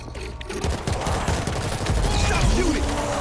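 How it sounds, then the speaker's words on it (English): Sustained automatic gunfire in the zombie shooter World War Z, dense overlapping bursts of rapid shots filling the whole stretch, loud and close with no talking. "Stop shooting!"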